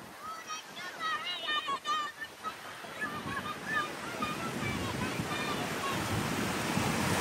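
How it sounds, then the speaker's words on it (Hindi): Big sea waves crash steadily onto a beach at sunset, with a continuous roar and gusty wind noise. Excited shouting voices rise over the surf early on. "अब्दुल्ला लहरें बड़ी आ रही है।"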